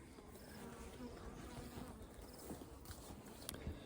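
Honey bees fill a hive right to the top, buzzing in a dense, continuous swarm hum with small crackles and shuffles, close and faint, heard alone without talk.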